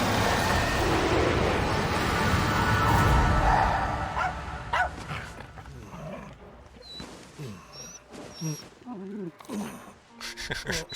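A dog barking in Monster Hunter Rise, a few yips and barks mixed with other in-game animal and creature sounds, following a loud rumbling stretch, with speech now and then.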